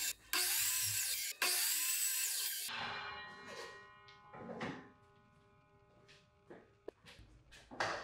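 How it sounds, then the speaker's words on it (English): A miter saw with a stop block cuts cedar boards to length: one loud whining cut, then the blade winds down, followed by light knocks as the wood is handled. "Up next, I cut them all to length at the miter saw."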